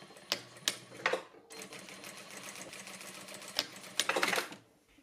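A sewing machine stitches tape ends together on a shirt hem: a few short bursts of stitching, then one steady run that ends in a brief flurry, heard close and quiet with no voices.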